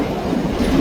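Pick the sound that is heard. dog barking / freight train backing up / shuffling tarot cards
freight train backing up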